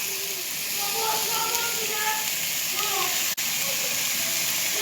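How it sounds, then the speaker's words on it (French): Steady sizzling hiss of chicken frying in a hot pan, continuous and close, with faint children's voices murmuring underneath. "Je le dépose dans ma casserole déjà bien chaude."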